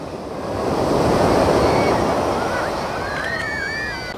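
Ocean waves break and wash onto a crowded beach in a loud, rushing surge that swells and slowly fades, with wind buffeting the microphone and faint distant voices.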